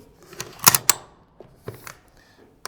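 Metallic clacks and snaps from the charging handle of an M249 FN Minimi machine gun being racked and pushed forward, a sharp double click followed by a few lighter clicks close up.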